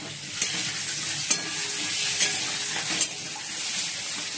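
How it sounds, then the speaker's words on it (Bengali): Potatoes frying in hot oil in a home kitchen give a steady close sizzle, with a few soft clinks of stirring utensils against the pan at regular intervals and no voices. "আর আলুগুলো ভাজছি"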